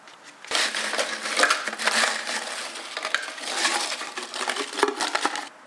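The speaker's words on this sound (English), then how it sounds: "I'm adding to my food processor about let's say 160 grams of sour cream and onion Pringles" A food processor pulverizes about 160 grams of sour cream and onion Pringles in a loud, continuous crunching blast lasting several seconds, close up and crackling throughout before stopping abruptly.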